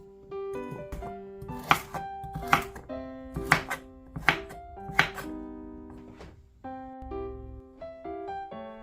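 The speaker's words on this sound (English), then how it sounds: "we're going to cut off the ends, and then I like to cut them on a diagonal" A knife chops carrots on a diagonal on a cutting board, about seven sharp, evenly spaced thunks ringing out over a steady background of music, followed by a brief low scrape near the end.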